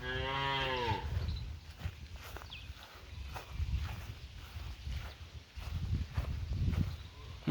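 A cow on rural land beside a large pond gives one drawn-out moo at the start, followed by quieter irregular thuds like hooves or footsteps shifting nearby.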